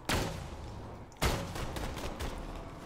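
Rifle gunfire in Borderlands 2: two sharp, loud shots about a second apart, each trailing off into a rumbling, crackling decay in the game's noisy combat mix.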